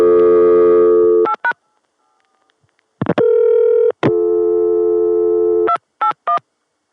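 Dialing on the Continental Can CCSA corporate phone network in 1981: loud steady tones that break off, then bursts of short beeps in pairs, a long held tone and more paired beeps, all close with no talking.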